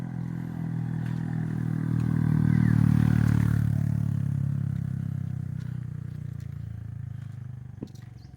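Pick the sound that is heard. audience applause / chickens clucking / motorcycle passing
motorcycle passing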